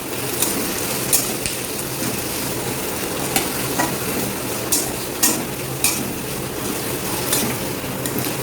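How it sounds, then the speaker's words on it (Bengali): Chopped onions fry in a wok with a steady, close sizzle, broken by scattered sharp clicks and scrapes as they are stirred; no one speaks. "এবার আমাকে পেঁয়াজ কুচিগুলো খুব ভালো করে ফ্রাই করতে হবে।"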